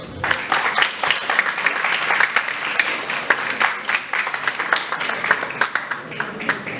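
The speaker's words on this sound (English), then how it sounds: "Everyone, a big round of applause." Audience applause fills a Human Rights Day event hall, a steady dense wash of many hands clapping throughout, loud and sustained with no talk over it.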